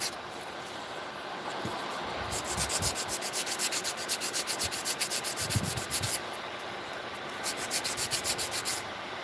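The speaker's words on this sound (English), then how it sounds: "Now, this is how I file." Acrylic press-on nails being filed with a nail file: bursts of quick, rhythmic back-and-forth rasping strokes, close and fairly loud, separated by short pauses, with no talking.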